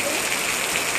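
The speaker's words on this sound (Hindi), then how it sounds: "आज हमारे यहाँ देखिए कुछ इस तरह बारिश हो रहा है बहुत तेज़ी से यहाँ पर, और बहुत बारिश हो रहा है" Heavy monsoon rain pours down at home, a dense, loud, continuous hiss of water with no break.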